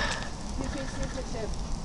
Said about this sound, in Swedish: Så, här har Dragan satt fatt på elden.